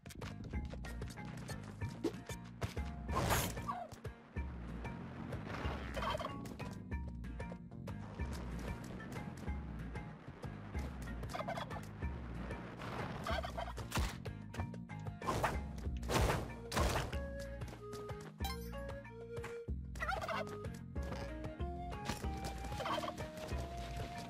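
Turkeys in the video game Spelunky 2 gobble over and over, rapid warbling calls layered over constant background noise and occasional thuds and crashes.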